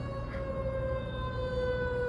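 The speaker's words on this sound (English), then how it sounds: "I'm sorry if you can't hear me over them sirens" A siren wailing steadily in a sustained, slowly sliding tone, moderately loud and not far off, with no voices.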